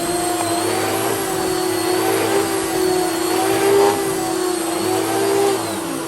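A Filterqueen Majestic 231UK vacuum cleaner runs on its highest setting, a loud, steady whining drone with a constant motor tone that rises slightly in places as it is pushed over the floor.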